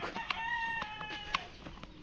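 A chicken calls nearby with a drawn-out, wavering cry, punctuated by a few sharp clucks over faint outdoor background.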